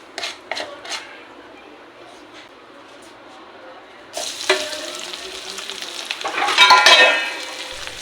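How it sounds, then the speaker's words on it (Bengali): Soybeans with salt and turmeric go into hot mustard oil and start frying with a sudden loud, steady sizzle. A few sharp knocks of utensil on pan come just before, and clattering stirring follows. "সয়াবিনটা যখন আপনারা ফ্রাই করবেন একদম হালকা আছে ফ্রাই করতে হবে"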